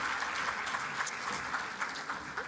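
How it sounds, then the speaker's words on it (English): Audience applause at a health summit panel session, steady dense clapping filling the whole stretch at a moderate level with no talk over it. "One more round of applause for that panel."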